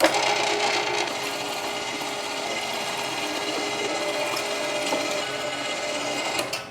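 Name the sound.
big meat grinder grinding cold sausage meat, coarse die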